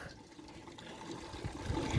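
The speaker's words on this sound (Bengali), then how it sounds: "একটু জল ঢেলে দিলে হয়ে গেল" Water is poured over a cat being bathed on a cold winter day, making a soft, continuous close splashing and trickling with no talk.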